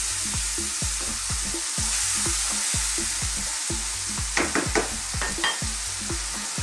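Goat curry with meat masala and added stock bubbles and sizzles in a pan. A steady loud hiss runs under rhythmic stirring scrapes, and a few sharper spits come near the end.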